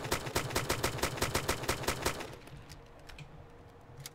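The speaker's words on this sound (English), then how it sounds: "I just heard shooting" A fast, regular burst of automatic gunfire in the DayZ mod for Arma 2, about fifteen evenly spaced shots at moderate distance, cutting off abruptly with a few faint scattered shots after.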